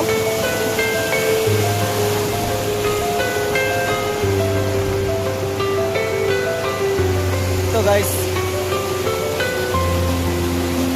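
Surusuru waterfall near Padampur in Rayagada district, Odisha, rushes with a steady, loud wash of falling water. A voice speaks briefly, and sustained tones sit over the roar.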